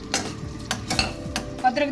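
Cardamom tempering in a hot pan gives a steady, close sizzle broken by several scraping stirs of a spoon against the metal.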